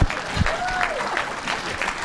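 An audience applauds at a university awards luncheon, a dense, steady wash of clapping over about two seconds, with faint voices and a brief whistle-like tone mixed in.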